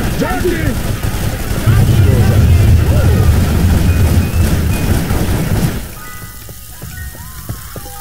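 A Molotov fire in the video game Left 4 Dead 2 gives off a loud, steady roar and crackle that cuts off sharply partway through. Voices talk over the flames.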